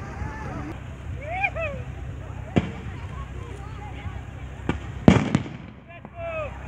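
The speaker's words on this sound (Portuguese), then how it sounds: "o cara tirou os fogos de artifício pra, pra cima deles" Fireworks fired toward police during a clash between military police and residents of Sol Nascente, a few sharp cracks and bangs at a distance, one louder burst near the end, amid birdsong and people talking.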